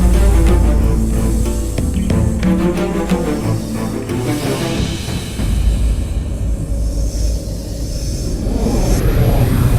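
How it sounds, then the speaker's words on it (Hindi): The Pushpak Vimana flying chariot from a Ramayana drama sounds like a loud, continuous aircraft-like roar and whoosh that swells and shifts in tone throughout, with no talk. "पुष्पक विमान"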